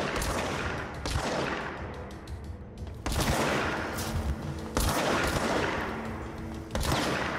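Bursts of rapid automatic gunfire in the video game Control, loud and close, coming in several sustained volleys separated by brief pauses.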